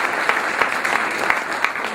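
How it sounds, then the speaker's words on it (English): A crowd at a political gathering applauds, a steady dense clapping with a few sharper individual claps standing out, loud and continuous for the whole moment. "Let's give these men and women a great round of applause"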